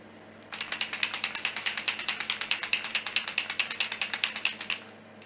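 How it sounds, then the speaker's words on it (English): A can of dental spray glaze shaken hard, a mixing ball rattling in a fast, steady run of about thirty sharp clicks, close and clear with no talking. "I just need to shake the spray because we're going to use this spray glaze."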